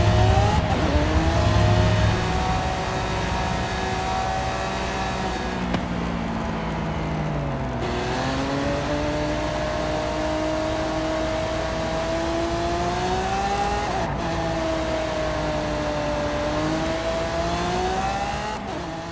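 Lamborghini Centenario supercars racing in a video game, engines holding a loud continuous high-revving whine with pitch rising and falling through gear changes and a brief dip mid-run, no talking.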